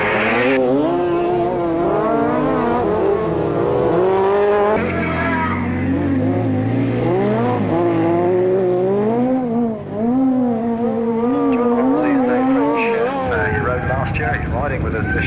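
Racing motorcycles parade around a grasstrack, engines rising and falling as they pass, with a commentator talking over the continuous engine noise.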